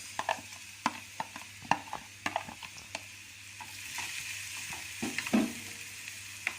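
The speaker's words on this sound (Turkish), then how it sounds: "Bu şekilde havuçları kızartacağız." Carrots sizzle softly in a pan while utensils clink and scrape against it in irregular taps, with a light stirring rattle throughout.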